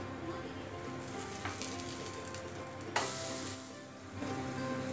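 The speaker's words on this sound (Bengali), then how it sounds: "দুই পাশে বেশ এটাকে গোল্ডেন ব্রাউন করে ভেজে নেব" An aloo cheela, a Bengali potato pancake, fries in oil in a pan over a low-to-medium flame, with a steady close sizzle and one brief louder hiss partway through.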